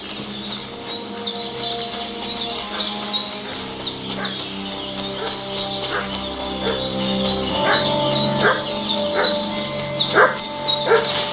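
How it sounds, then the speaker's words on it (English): A dog barks repeatedly, in an excited rhythm that keeps going, somewhere in a countryside setting of medieval Bohemia in Kingdom Come Deliverance 2. Birdsong chirps steadily around the barking. "What's that dog making such a fuss about?"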